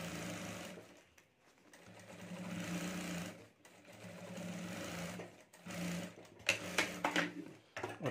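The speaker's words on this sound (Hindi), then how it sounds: "अब यहाँ नीचे भी हमें सिलाई कर देनी है। तो यहाँ नीचे भी मैं सिलाई कर देता हूँ।" A sewing machine stitches along the bottom of a handmade sling bag in steady motor bursts, pausing briefly between runs and then starting again, close and fairly loud with no talk.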